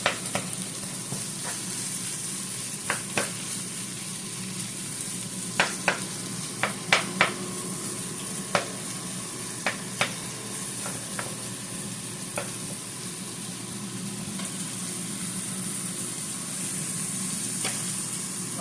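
Onions fry in a pan, meant for collard greens. They give a constant, even sizzle with scattered light pops and clicks from stirring, steady throughout with no talking.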